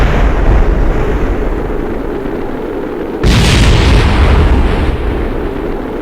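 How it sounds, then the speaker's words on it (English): Loud rumbling roar of a spacecraft reentering in Kerbal Space Program, with a sudden sharp burst as solar panels blow apart midway, followed by continued heavy roaring. "some of the solar panels are going bang"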